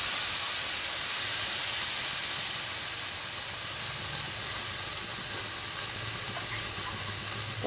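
Potato, taro and eggplant frying in a pan, with soaked mustard paste added, make a continuous loud hissing sizzle close by, steady throughout with no talking.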